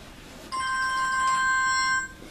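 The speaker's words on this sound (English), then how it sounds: "phone's ringing, let me silence that" A bright electronic phone ringtone chimes for about a second and a half, then stops abruptly.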